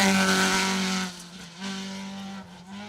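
A rally car, apparently a Ford Escort, passes on an asphalt stage of Rally Ceredigion 2023, its engine loud and droning before fading quickly as it moves away.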